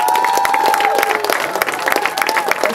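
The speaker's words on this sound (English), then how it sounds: "a round of applause" Lively audience applause and some cheering at the International Permaculture Convergence in India, a continuous clatter of many hands with a faint whistle-like tone early on, near and fairly loud.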